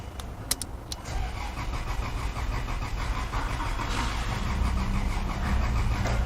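A damaged Toyota Land Cruiser engine cranks repeatedly without catching, a rapid rhythmic churning from the starter that grows louder and steadier over several seconds, close by.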